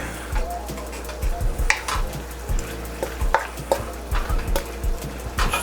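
Vegetables being stir-fried in a wok: a soft sizzle under repeated scraping and clanking stir strokes in an irregular rhythm, close and fairly quiet.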